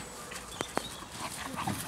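An Irish wolfhound and a Boxer play indoors, with a couple of sharp yips and scuffling over a steady background hum, and people speak faintly nearby.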